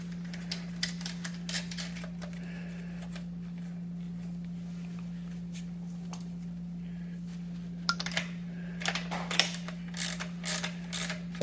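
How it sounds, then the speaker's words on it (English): A ratchet turning a nut on an EVOLV Pro electric scooter's suspension, rapid clicking pawl bursts, sparse at first and then denser, close over a steady low hum. "So I'm going to put the nut on there just to keep it from falling off."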